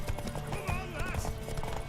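In The Witcher 3 game, horse hooves clip-clop in a quick rhythm and a horse whinnies briefly. Both sit fairly faint under voices and other game sound.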